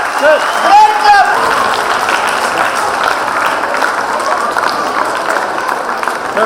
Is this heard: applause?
yes